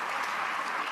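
A crowd applauding at a morning pickleball match in the Carvana Mesa Cup, a dense, even wash of clapping held for a moment.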